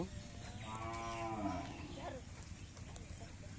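A sick calf being treated at home for lumpy skin disease gives one drawn-out, wavering moo. It is moderately close and sounds over a faint, steady background hum.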